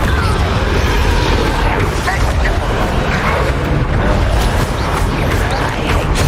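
Explosive blasts from the Bombarda and Confringo spells during a Hogwarts Legacy battle, a dense, continuous roar of booms and bursts with a voice talking over them.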